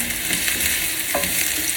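Garlic and white onion sizzle steadily in hot oil at the start of a pork adobo, a close, bright crackle with light stirring and no talking.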